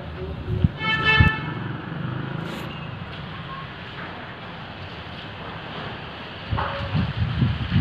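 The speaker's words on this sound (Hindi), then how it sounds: "अब हवा चल रही है जबरदस्त" Strong wind after heavy rain buffets the microphone with a steady roaring rush, while a horn honks briefly near the start and traffic noise rises toward the end.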